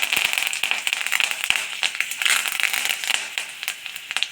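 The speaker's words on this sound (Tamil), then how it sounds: "கருவேப்பிலை உங்களுக்கு எண்ணெயிலே போடும்போது நல்லா அது பொரியறதே நல்லாயிருக்கும்." Rapid, irregular crackling and popping of curry leaves in hot oil, sharp sputters scattered densely throughout, close and fairly loud with no voices.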